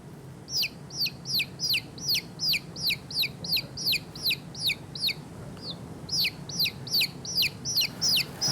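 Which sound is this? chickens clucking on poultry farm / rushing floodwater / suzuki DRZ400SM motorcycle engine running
chickens clucking on poultry farm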